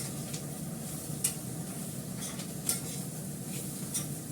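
Food frying in a pan with very little oil, a faint, dry sizzle with occasional light clicks of a utensil against the pan.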